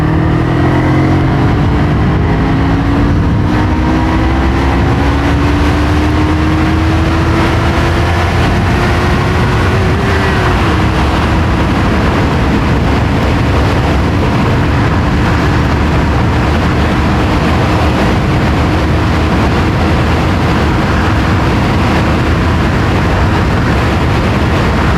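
Yamaha MT-03 motorcycle accelerating hard toward top speed, engine drone climbing steadily through gear changes and then holding a loud, sustained high-speed roar with heavy wind rush throughout.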